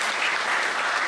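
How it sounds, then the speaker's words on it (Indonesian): A seminar audience at an Islamic spiritual lecture claps together in a brief, even burst of dense applause, loud and close throughout. "Boleh tepuk tangan dulu"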